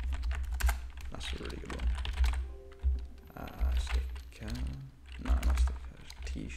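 Rapid clicking of a computer keyboard as someone types search keywords, a steady run of light taps that continues under nearly constant conversational speech.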